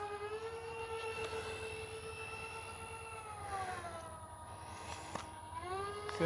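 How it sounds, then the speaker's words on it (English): A Dynam A-10 Thunderbolt II RC jet with twin 64mm EDF units makes a steady tonal whine of rising and falling harmonics, an unbalanced motor hum that shifts pitch midway, with a brief click near the end. "I like that unbalanced motor sound that it makes when it's kind of in between."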